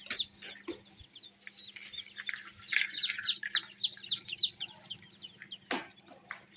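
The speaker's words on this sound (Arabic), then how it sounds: "شايفين البط حلو جميل ازاي" Newly hatched ducklings inside an incubator peep constantly in high, thin chirps that overlap densely over a steady low machine hum.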